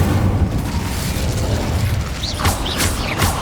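Incendio fire spell cast in Hogwarts Legacy, a loud rushing burst of flame with rumbling booms and crackling mechanical clatter, ending in several sharp whooshing flares.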